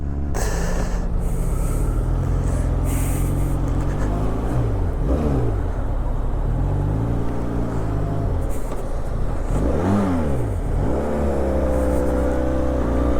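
A Benelli 502c motorcycle fitted with a new exhaust drones loudly and close up, its engine tone rising and falling through repeated revs and gear changes while riding, before it stalls.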